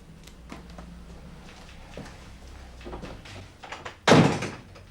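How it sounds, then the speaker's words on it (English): A door is shut with a single loud, close thunk near the end, after a quieter stretch of indoor movement and faint room noise, in a 1988 police station drama setting. "Leave me, will you, and shut the door behind you?"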